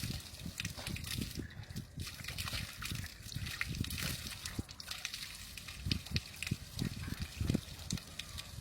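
Tap water splashes and gurgles steadily while someone washes their face under it at a house, with uneven wet slaps and dribbles close by throughout and no talk.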